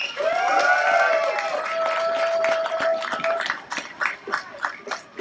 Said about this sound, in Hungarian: és köszöntsétek tapsal!